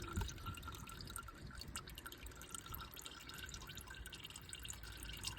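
Engine oil drains from a Toyota Celica TA22 during an oil change, making a faint, continuous trickling and dripping that holds steady throughout with no voices.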